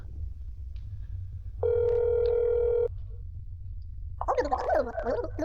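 Phone call to a dialed number: a steady ringback tone sounds once for about a second over a low background hum, then goes quiet before a burst of garbled activity near the end.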